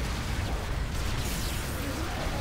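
Gunfire in the indie shooter game Assault Android Cactus: a dense, continuous barrage of rapid shots and bursts forming a steady, loud wash of noise with no clear gaps.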